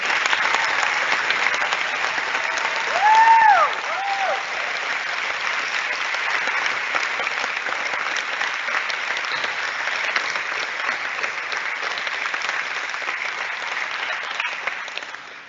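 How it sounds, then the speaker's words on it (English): Sustained applause for graduates at a Grade 12 graduation ceremony fills a large hall, steady and dense throughout, with a brief whistle or cheer rising early on before the clapping carries on evenly. "Another round of applause for our graduates."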